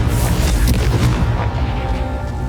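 Fire-spell blasts from the Confringo curse in Hogwarts Legacy, a continuous loud booming barrage of explosive bursts with dense low rumble throughout, no talking.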